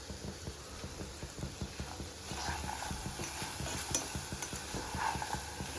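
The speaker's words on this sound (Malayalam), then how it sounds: "ഇടയ്ക്ക് നല്ലോണം ഒന്ന് ഇളക്കി കൊടുക്കണം." Chinese potatoes (koorka) frying in a pan for a Kerala masala fry, stirred with rapid, rhythmic scraping strokes over a constant sizzle, close and steady, and nobody speaks.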